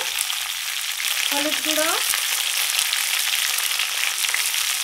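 Chopped ridge gourd and green chilli frying in a pan, a loud, dense sizzle that runs throughout, while a voice briefly speaks partway through.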